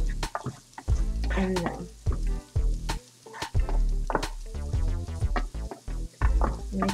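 Diced onion sweats in a pan with a soft, continuous sizzle and occasional stirring, mostly under a person's near, steady talking.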